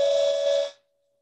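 A handmade yellow cedar wooden whistle blown once, a steady, clear, fairly sharp tone held for under a second, then cut off abruptly, loud and close with no talking.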